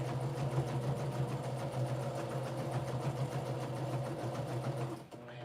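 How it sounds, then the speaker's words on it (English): A sewing machine stitches steadily around the border of a pillow cover, a constant close mechanical whir with a fast regular needle rhythm that stops abruptly near the end. "So I'm just going around the border, stitching in and or near the ditch."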